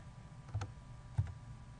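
Two faint, quiet clicks of a computer mouse, about half a second apart, over a low steady background hum with no voices.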